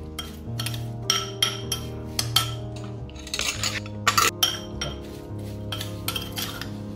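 A spoon scraping and clinking against a bowl while a cinnamon powder mixture for apple bread rolls is stirred, irregular metallic taps and scrapes close up over a steady background hum.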